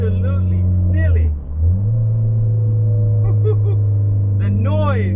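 A Mitsubishi Lancer Evo X with all-wheel drive roars under hard acceleration, a loud, continuous engine drone that dips briefly as it shifts before climbing again, while someone speaks excitedly over it.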